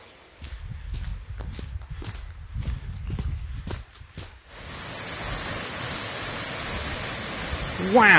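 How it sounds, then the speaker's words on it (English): Footsteps on a hiking path along the West Highland Way in Scotland give way to the loud, steady rush of a waterfall that fills the rest of the clip. "Wow, what a waterfall."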